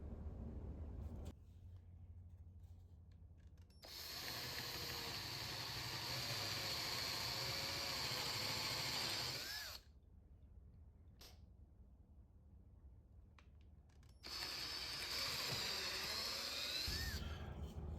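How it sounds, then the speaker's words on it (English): Power drill boring a hole with a 1/4 inch bit into wood while building a squirrel feeder, two long whirring bursts separated by quiet pauses, close and steady. "I'm going to go up to a 1/4 inch drill bit, and that should be fine for the lag screw"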